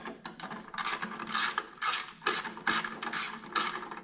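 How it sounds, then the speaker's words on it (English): Close ratchet clicking from a ratchet with an extension and 10 mm socket breaking loose downpipe bolts on a Mini Cooper R56, in several quick bursts of rapid clicks with short pauses between. "I got my ratchet here with an extension and a 10 mil on the end"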